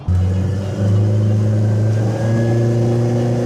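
An outboard boat engine revs up while propping out and checking RPM, a loud steady mid-pitched drone that climbs slightly and holds, close by with no talking.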